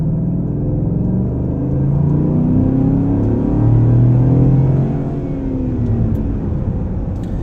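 2016 Cadillac Escalade SUV with a 420-horsepower V8 accelerating, a loud low engine rumble that builds in pitch and volume, peaks midway, then eases off, with no talk over it.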